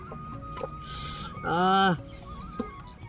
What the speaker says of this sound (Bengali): পক পক করছিল মুরগিগুলা